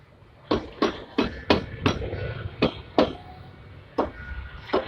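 A rubber mallet strikes the brake drum of a Hyundai Eon in about nine sharp, dull knocks, irregularly spaced, close and clear with no talk.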